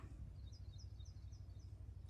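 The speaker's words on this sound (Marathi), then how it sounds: "वेगवेगळ्या पक्ष्यांचा आवाज येतो" Faint calls of various birds repeat at a steady pace against a low, constant rumble, thin and distant in an open farm field.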